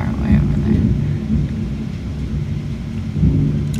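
A heavy thunderstorm at Myrtle Beach: deep, continuous rumbling thunder with a steady wash of rain, loud and close throughout, swelling slightly near the start and again at the end.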